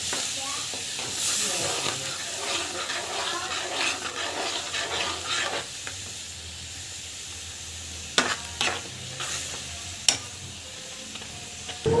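Paneer butter masala sizzling in a pan, a soft continuous fry hiss with stirring scrapes and a few sharp clinks of a spoon against the pan, a voice talking over it in places.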